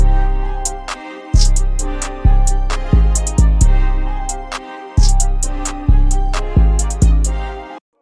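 Bouncy hip-hop drum pattern programmed in FL Studio, with booming 808 kicks, crisp snares and a steady run of hi-hats looping in a syncopated groove, loud and up front with no talking.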